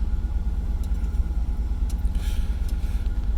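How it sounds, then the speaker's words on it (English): A third-generation Camaro engine idles with the revs settling down, a steady low rumble heard alone from close by. "See the idles coming down."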